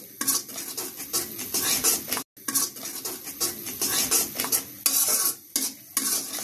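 Onion curry with ginger, garlic and spices is stirred and sautéed in a pan, with rhythmic scraping and clinking of a metal spoon against the pot over a soft sizzle, briefly cut by one short silent gap.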